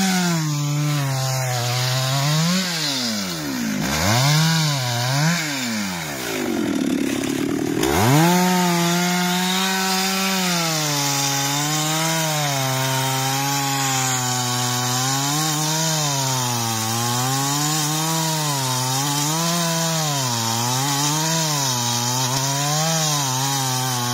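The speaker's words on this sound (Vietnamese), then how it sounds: "bắt đầu cưa hạ đứt gốc nha chú chị ơi." Chainsaw felling a large sao đen tree, its engine revving and bogging continuously as the bar bites into the trunk, loud and close, with rising and falling pitch throughout and no talking.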